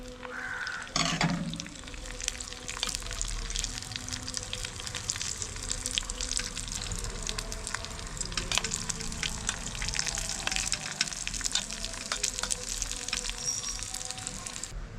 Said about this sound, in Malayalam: ചെറിയൊരു ഗോൾഡൻ കളർ ആവുന്നത് വരെ നമുക്കിതൊന്ന് വറുത്തെടുക്കാം